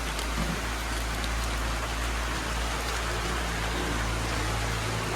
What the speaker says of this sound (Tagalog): Kaya lang, umulan.